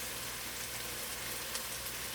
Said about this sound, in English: the onions and all of that, the bell peppers and all of that good stuff is just sauteing right now